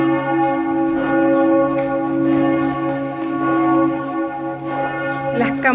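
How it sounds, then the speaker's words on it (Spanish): Church bells ring out loud and close, their overlapping tones sustaining in a rich, humming drone with repeated strikes and no talking. "Las campanas de la iglesia"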